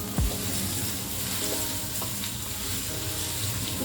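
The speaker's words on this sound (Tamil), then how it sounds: "வெங்காயம் கொஞ்சம் நல்லா வதங்கட்டும்" Onions and green chillies sauté in hot oil over high flame, a dense steady sizzle with an early thump and light stirring scrapes, close and uninterrupted.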